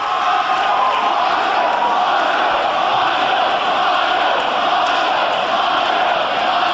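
A loud, roaring crowd at a CZW ultraviolent wrestling event cheers and yells in a continuous, dense wall of noise that holds steady from start to finish.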